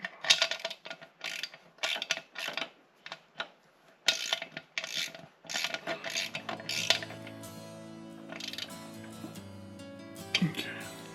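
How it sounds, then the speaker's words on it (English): A hand ratchet clicks in quick repeated bursts while snugging the drain plug bolt on a Honda 400EX ATV during final engine assembly, followed by a faint mechanical hum and some speech. "we'll go ahead and get this drain plug bolt put in, and then we'll go back through and snug everything up"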